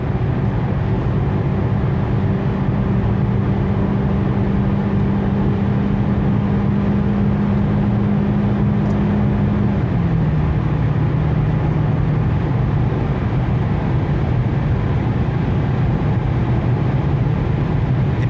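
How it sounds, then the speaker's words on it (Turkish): A 2004 Toyota Avensis automatic running on LPG accelerates at full throttle, its engine droning loud and steady inside the cabin with a tone that holds, then drops slightly as the gearbox shifts and the drone keeps climbing. "LPG'deyiz. Dip gaz devam ediyorum."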